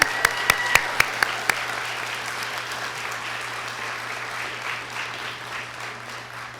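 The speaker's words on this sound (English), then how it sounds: "Let's do another round of applause for our nurses." Applause for registered-nurse graduates at a nursing pinning ceremony, a crowd clapping steadily throughout, with a few sharp close claps near the start and a low hum beneath the room.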